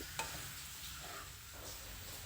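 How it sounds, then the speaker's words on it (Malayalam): Thoran vegetables stirred in a pan make a faint, soft sizzle with one brief scrape near the start, quiet and steady throughout without talk. "ഇതേപോലെ നമ്മൾ ഇളക്കി അടച്ചു കൊടുത്താൽ മതി"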